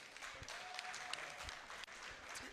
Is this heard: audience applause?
yes